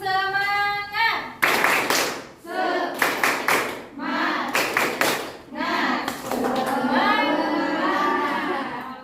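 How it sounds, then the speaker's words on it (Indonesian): A classroom of pupils performs a rhythmic spirit clap, loud clusters of group handclaps in quick patterns, mixed with chanting children's voices. "Coba tepuk semangat."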